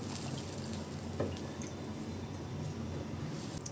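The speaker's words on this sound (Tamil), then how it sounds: "இப்போ கரைச்சி வச்சுருக்க புளியை ஊற்றிடலாம். அப்படியே முருங்கைக்காயும் போட்டுக்கலாம்." Dissolved tamarind water is poured into a simmering pirandai curry and drumsticks are dropped in, giving a soft, steady liquid slosh with one brief plop, quiet and close with no talking.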